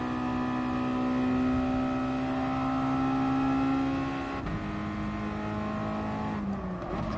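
Race cars in a racing video game held at full throttle, a steady loud engine whine with a shift down near four seconds and another near six, no talk.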